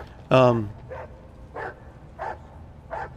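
A dog in a Warhammer 40K Rogue Trader game session gives one sharp, loud bark followed by four softer, evenly spaced woofs, over a low background hum.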